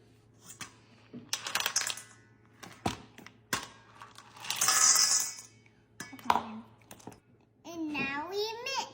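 Hard candy corn clinks and rattles into a mixing bowl already holding peanuts and Reese's Pieces, in a few quick clattering bursts close by, with a voice chattering between them.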